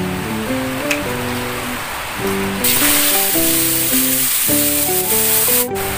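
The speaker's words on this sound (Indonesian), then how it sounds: "minyaknya sudah panas, kita tumis bumbunya yang sudah dihaluskan ya" Ground spice paste sizzling steadily in hot oil for an Indonesian warteg-style yellow tofu vegetable dish, a continuous close frying hiss with music playing over it.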